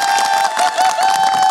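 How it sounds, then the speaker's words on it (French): A studio audience on a French TV show claps and cheers for a guest, a dense continuous wash of applause with a sustained tone running underneath. "Est-ce qu'on peut applaudir bien fort notre invité?"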